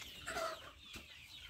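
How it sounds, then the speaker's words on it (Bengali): A chicken on a poultry farm gives a short, faint cluck, one quick rising call followed by a soft tail of noise within about a second and a half. "মুরগি ধরে দাও"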